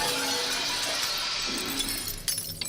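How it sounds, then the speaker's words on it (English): A control room window shatters in an old-time radio drama effect, a sustained loud burst of breaking glass with tinkling shards falling off toward the end, no voices. "the control room window shattered"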